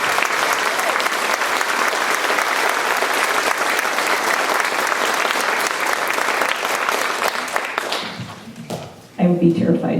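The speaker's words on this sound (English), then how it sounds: "let's give Polaris a round of applause" A high school spring concert audience claps in sustained, dense applause that fades near the end before a voice begins speaking.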